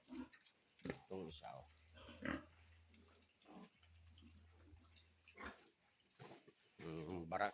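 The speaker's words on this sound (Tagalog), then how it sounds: "nagpakain ng alaga kong baboy" Pet pigs on a rural farm grunting and snorting close by in scattered bursts, while someone talks briefly between the noises.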